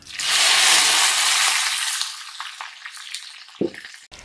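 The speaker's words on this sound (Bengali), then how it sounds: "কড়াইতে তেল দিচ্ছি" Cumin seeds hit hot oil in a wok with a loud, bright sizzle that bursts up at once, then fades into softer crackling and a few scraping stirs near the end.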